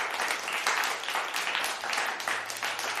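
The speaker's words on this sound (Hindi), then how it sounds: "पूरा मैदान तालियों से गूंज उठता है।" Crowd applause in a Hindi cartoon as a street-food stall wins a prize, a dense loud burst of many hands clapping in surging waves, with no talking.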